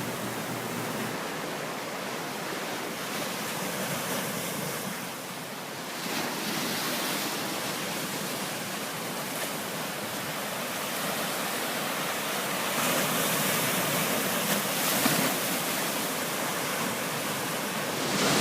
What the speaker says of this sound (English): I made it to the Atlantic Ocean. That's it right behind me.